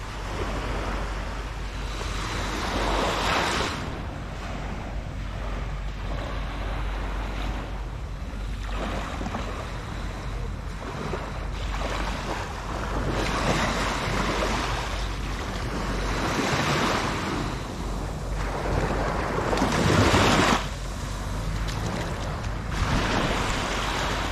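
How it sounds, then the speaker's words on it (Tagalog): Steady wash of calm sea surf rolling onto a beach in San Felipe, Zambales, Philippines, with gentle swells rising and falling and some wind noise throughout; no voices. "Kalmado ang dagat ngayon. Napakaganda."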